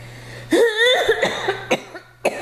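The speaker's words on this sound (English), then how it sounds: "I'm still coughing." A person coughs several times in quick succession, close and loud, with short pauses and a final cough after a brief gap.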